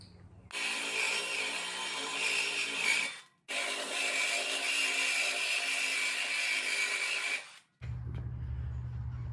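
Metal stand legs for a cast iron pot are cut in two long, loud, harsh grinding passes separated by a brief pause, each ending sharply, with a low hum after the second.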